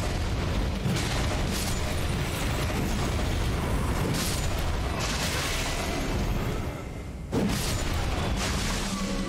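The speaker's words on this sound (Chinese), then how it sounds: "这些敌人死掉的时候呢，头会爆炸放毒的" In the Elden Ring video game, at Volcano Manor, enemies' heads explode and release poison as they die: dense, booming blasts with a few sharper bursts stand out over a continuous roar of game noise.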